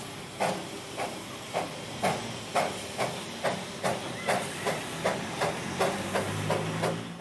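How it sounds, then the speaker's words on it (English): A steam train pulling away, with a steady hiss of steam broken by regular rhythmic chuffs, about a dozen evenly spaced beats that quicken slightly, fairly close and without voices. "A hoarse, wheezy hoot, a hiss of steam, the train would jolt into life"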